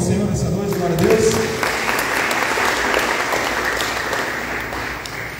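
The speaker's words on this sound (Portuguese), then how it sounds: "Quem pode aplaudir o Senhor nessa noite?" A church congregation breaks into sustained applause during an evening worship service, the broad clapping filling the room at steady loudness, with a voice audible over it at first.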